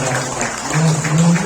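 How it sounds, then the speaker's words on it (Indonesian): A gathered audience at a handover ceremony for a social association's chairperson breaks into loud, dense applause, with a low hum beneath it. "tolong berikan tepuk tangan yang meriah untuk"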